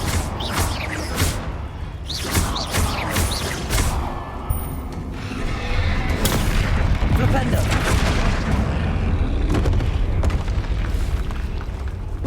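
Repeated blasting spell explosions in the Hogwarts Legacy video game, heavy booming bursts layered over continuous loud combat noise, with several sharp impacts early and a dense rumbling roar through the rest.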